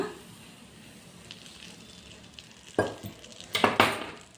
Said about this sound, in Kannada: ಇದಕ್ಕೆ 2-3 ಸ್ಪೂನು ತುಪ್ಪ ಚೆನ್ನಾಗಿ ಕಾಯಿಸ್ಕೊಂಡು ಹಾಕ್ಕೊಳ್ಳೋಣ